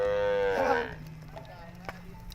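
Cattle in Kenya's Borana country give one loud, drawn-out moo close by, which fades into quieter outdoor background with faint distant sounds.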